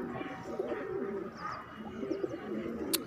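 Madrasi pigeons coo repeatedly at close range, soft rolling low calls in a loose rhythm, with faint chirps and light background noise around them.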